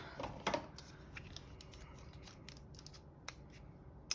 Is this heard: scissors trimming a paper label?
yes